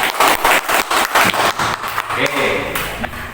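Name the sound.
children clapping for a classmate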